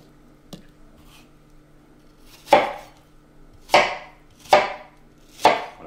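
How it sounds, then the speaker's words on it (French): A knife chops peeled apples into medium pieces on a board: four crisp, loud cuts spaced about a second apart after a faint tap, in a quiet kitchen. "on va venir couper, voilà, en morceaux pas trop petits mais pas trop gros non plus"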